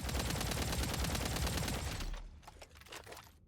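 The Ghostbusters weapon in the video game Killing Floor 3 fires a dense, loud stream of rapid crackling bursts for about two seconds, then drops to scattered softer pops and rattles.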